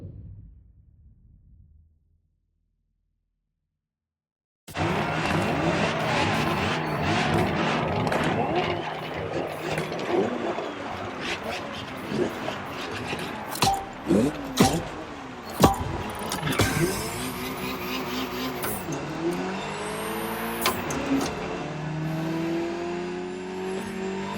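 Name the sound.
Ferrari GTO engine in video game The Crew Motorfest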